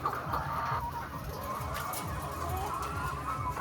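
Hens on a poultry farm holding about 750 laying birds, a dense flock of overlapping clucks and chatter at moderate distance, continuous and fairly soft throughout.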